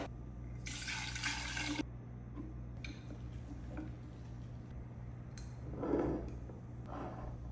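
Water pours briefly into a sourdough starter jar, part of a large feed of 325 grams of flour and 325 grams of water. A short splashy burst comes near the start, followed by faint handling clicks and quiet kitchen noise.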